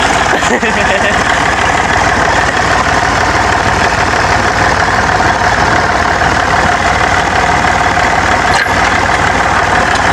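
Engine idling on a makeshift jugaad rig, a steady loud mechanical drone with even low rumble throughout and a brief knock near the end.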